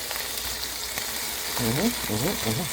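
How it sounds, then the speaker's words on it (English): Mushrooms and onion frying in a pan, a steady broad sizzle running throughout with a few soft stirring clicks, fairly close, while someone talks over the latter part. "I'm gonna throw in some mushrooms"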